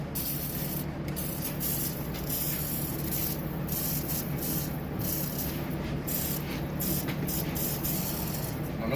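Aerosol spray being shot into the engine cylinders of a 1947 Plymouth Special, a close, steady hiss that continues unbroken for the whole stretch with faint rubbing textures.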